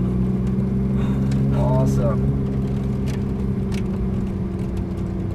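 Ferrari 458 sports car engine droning steadily from inside the cabin while driving on track laps, a continuous low hum with a brief voice speaking over it.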